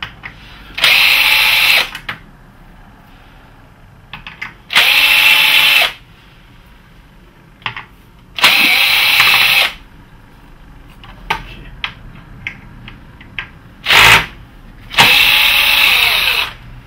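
A power drill removes screws from the Y-SUS board of an LG 50PG3000 plasma TV: five loud, close whirring bursts of about a second each, separated by quiet gaps with small clicks.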